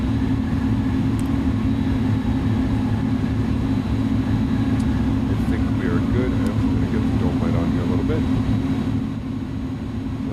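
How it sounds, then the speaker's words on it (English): Loud jet airliner noise in Microsoft Flight Simulator from an iniBuilds A310, a steady broadband roar with low rumble that holds for the whole stretch and eases slightly near the end, with a voice speaking over it at times. "Loud airplane. Loud."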